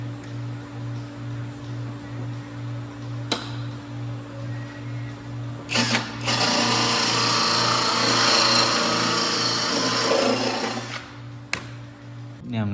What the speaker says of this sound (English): Now I'm going to go in here with the tapered bit and drill